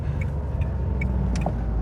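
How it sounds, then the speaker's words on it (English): The Dacia Jogger Extreme TCe 110's three-cylinder petrol engine runs with a steady low thrum heard from inside the car, accompanied by a few faint high electronic blips. "3-cylinder from the little engine there."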